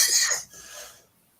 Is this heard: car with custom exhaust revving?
no